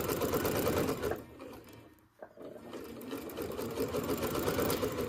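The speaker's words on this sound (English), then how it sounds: "let's go sew down this side" A sewing machine stitching a quilt block seam runs in a steady, fast mechanical whir. It pauses briefly about halfway, then resumes at the same close, even pace.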